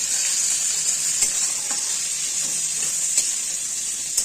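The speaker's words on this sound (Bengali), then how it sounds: "এইভাবে আস্তে আস্তে করে ভাজতে হবে" Drumsticks fry in a pan with salt and turmeric over low flame, giving a steady, close sizzle and hiss with a few faint stirring scrapes.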